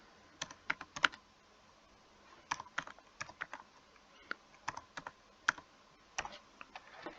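Typing on a computer keyboard while filling in registration details on an e-learning portal: bursts of quick, crisp key clicks in irregular clusters, fairly close and alone without talk.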